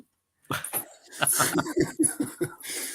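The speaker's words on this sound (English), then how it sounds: "I've got my nan's dog asking me to play ball" A dog whimpering and yipping repeatedly in short, eager bursts, asking to play ball. The calls are close and lively, with breathy whines between the sharper yelps.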